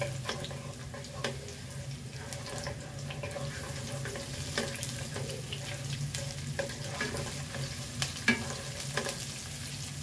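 Onions sautéing in a pan for chicken with pineapple, a soft continuous sizzle under scattered stirring scrapes and clinks, fairly quiet and close, no talking.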